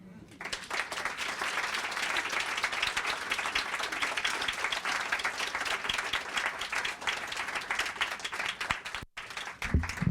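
An audience applauds poetry readers at an exhibition opening, with dense, sustained clapping from a full room that fills nearly the whole stretch before breaking off near the end.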